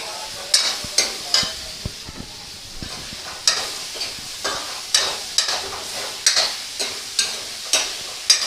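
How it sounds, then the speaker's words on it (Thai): Spicy holy basil stir-fry (pad kaprao) is tossed in a hot pan, a steady sizzle punctuated by regular, rhythmic spatula scrapes roughly every half second, close and clear with no voices. "ผัดไปก่อน"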